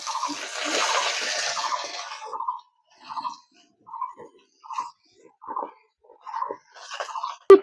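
Chopped pumpkin greens tipped into a pan of potatoes fried until reddish, with a loud burst of sizzling at first that drops to short, scattered crackles, then a sharp knock at the end.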